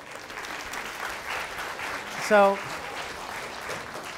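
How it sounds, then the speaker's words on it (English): Lecture audience applauding, a soft, continuous patter of clapping in a hall, briefly overlapped by a single spoken word. "let's give an applause"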